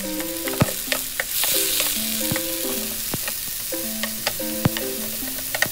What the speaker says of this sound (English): saute the onion and cut up carrots in the pan together, mix them together